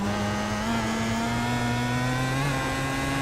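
Pro Mazda race car at Mid-Ohio in a racing simulator, its engine droning loudly at high revs with a steady buzzing note that shifts slightly in pitch, alone without talk.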